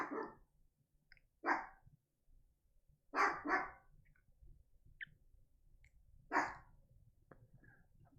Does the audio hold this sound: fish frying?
no